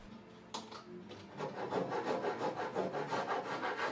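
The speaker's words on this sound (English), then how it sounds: "I'm now using the saw to cut open the slot for the skeg" Hand saw cutting a slot for the skeg box through a boat hull, a rough rasping stroke rhythm of about two strokes per second that builds after a sharp opening knock, close and alone.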